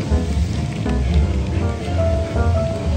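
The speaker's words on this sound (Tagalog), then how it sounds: "So, kasalukuyan kung nag-hailstorm" Hail pelts down on an outdoor theme park, Alton Towers Resort, making a loud, continuous patter that drums steadily on the surfaces all around, with no voices over it.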